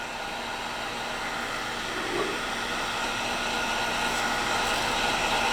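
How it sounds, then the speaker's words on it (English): A heat gun or small oven blows a steady hiss as shrink wrap tightens around a skinny sublimation tumbler, with a faint crinkling of the plastic grabbing the mug under the continuous airflow. "you can actually hear the shrink wrap grabbing the mug"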